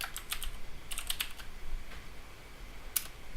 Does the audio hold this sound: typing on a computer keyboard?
yes